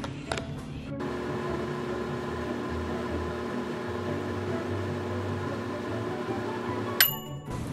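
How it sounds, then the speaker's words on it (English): A steady low hum of a microwave oven running while melting chocolate, with a faint beep and door click at the start and another click near the end. "Now, we need to microwave it."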